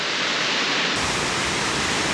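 A waterfall rushes below a via ferrata near Kandersteg in the Alps, a loud, steady broadband roar with no pauses that thickens abruptly about a second in.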